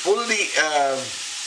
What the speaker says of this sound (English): tilt the frying pan so that the oil collects in one side and begins to cook the potatoes